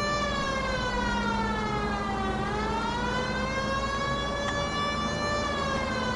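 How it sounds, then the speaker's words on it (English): A police car siren wails steadily and loudly in the L.A. Noire video game, its pitch rising and falling in a continuous sweep that fills the whole stretch. "This would be a good time for the siren."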